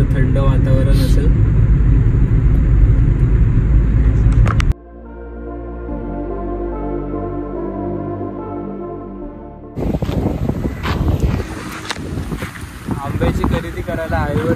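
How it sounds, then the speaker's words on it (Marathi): Stormy thunderstorm wind at a roadside highway stop buffets the microphone in loud, rough rushes, broken by a quieter stretch of steady droning tone before the gusts return. "पण इथे खूप वादळ चाललं."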